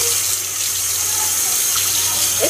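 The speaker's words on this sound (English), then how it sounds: "Wash your hands." Hands are washed under a running kitchen tap while making breakfast at home. A steady, close rush of flowing water fills the clip with no talking.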